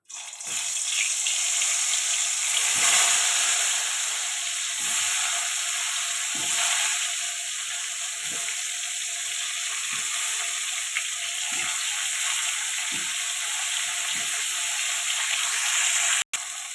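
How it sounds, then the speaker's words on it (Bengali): Pieces of pointed gourd (potol) fry in oil in a wok, producing a steady, bright sizzling hiss throughout, broken by soft, regularly spaced knocks and a sharp click near the end. "এবার পটলগুলো দিয়ে দিলাম"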